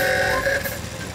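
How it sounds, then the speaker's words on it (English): Cartoon motor mower driving along in a children's animated episode, a steady buzzing engine drone with a bright tonal hum, continuous and fairly loud throughout the short stretch. "Grandpa Pig is driving his motor mower over to Peppa's house."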